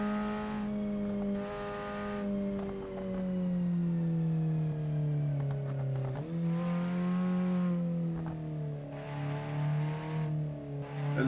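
A motorcycle engine in the BeamNG driving game drones steadily with rising and falling revs, a continuous close motor whine that dips and climbs as the bike is ridden, with no talking.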